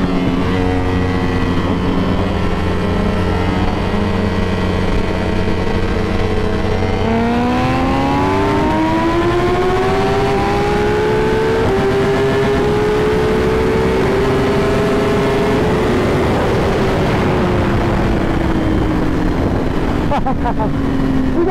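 A Ducati Panigale V4 R motorcycle engine roars loud and close throughout, holding a steady drone and then revving up in a rising whine before easing slightly toward the end.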